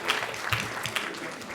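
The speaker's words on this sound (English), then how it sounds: "Can we give another round of applause to Dr. Shirley Malcolm and Dr. Willie May" Brief applause from a conference plenary audience, a short burst of moderately loud clapping that carries on without talk.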